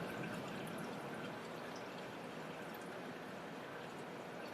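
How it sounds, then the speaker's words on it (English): Solution streams and drips from a lifted screen printing screen back into the tank, a faint, steady watery hiss with no voices. "Let some of that solution drip back into the tank."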